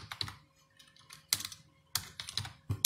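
Command typed on a computer keyboard, heard as several quick bursts of close, crisp key clicks separated by short pauses, ending with a firmer keystroke.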